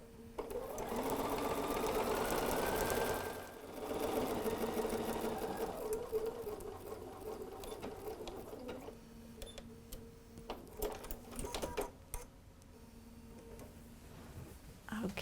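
A sewing machine stitches an eighth-inch seam around a fabric shape for a shopping cart handle cover, a loud steady run of rapid needle clatter, then slowing into short bursts and handling clicks near the end.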